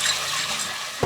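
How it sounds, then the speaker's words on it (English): Water rushes and splashes continuously as red kidney beans are given a quick rinse, with a short knock or clunk right at the end. "I'm going to soak 400 grams of red kidney beans. Just going to give it a quick wash"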